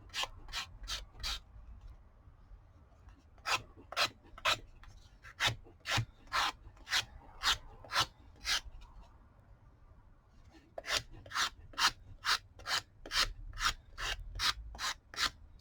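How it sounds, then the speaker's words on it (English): A file rasps along the edge of a resin-coated cardboard coaster in quick rhythmic strokes, grouped into bursts with a pause in the middle, close and clear with no talking. "You just file it back like that, so you got nice smooth edge there."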